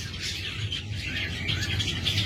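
A spotted dove calls close by, giving soft, low coos mixed with brief higher chirps against faint background noise.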